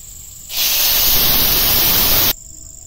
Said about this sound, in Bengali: এবার गरम जल देव।